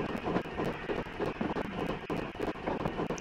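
Simulated train noise from the Train Simulator game on the Falmouth Branch, heard from the Auto coach: a loud, steady broadband rumble with rhythmic pulsing beats, alone without talk.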